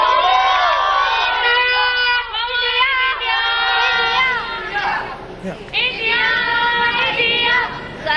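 Cricket fans cheering and chattering for Team India before an India vs West Indies World T20 match, a dense excited crowd with high shouts and voices close by throughout.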